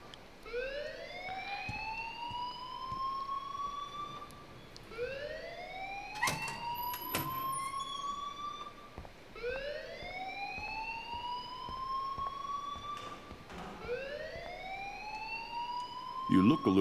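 Repeating alarm siren in the video game Life is Strange, rising wails that sweep upward roughly every four seconds, loud and steady, with brief clicks and knocks and a voice speaking underneath.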